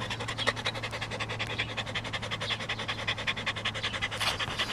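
A dog pants hard and steadily after a rattlesnake bit its tongue, with quick rhythmic breaths sounding close and continuous throughout.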